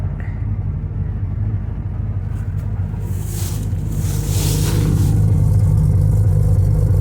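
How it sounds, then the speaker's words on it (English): Air compressor on a 1979 Ford F150 Supercab kicking on in freezing cold and running steadily, a continuous low mechanical drone under idling engine rumble that grows slightly louder midway. "Let's see if the compressor will fire up."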